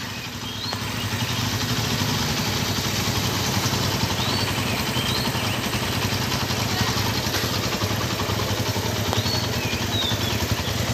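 A Honda Tiger Revo motorcycle idles nearby with a loud, steady, raspy exhaust throb that holds constant for about ten seconds, with faint chirps in the background.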